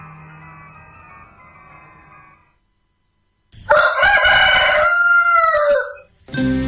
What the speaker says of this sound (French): Quand le chant du coq le tira du lit